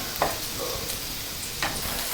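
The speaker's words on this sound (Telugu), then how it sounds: "లో ఫ్లేమ్లో పెట్టి వేయించుకోవాలి." Okra frying in a pan on a low flame, a soft steady sizzle broken by a couple of brief stirring scrapes, close and moderately quiet.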